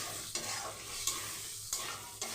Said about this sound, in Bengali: আদাটা দিয়েও ভালো করে ভেজে নিতে হবে, নাহলে আদার একটা কাঁচা গন্ধ থাকে।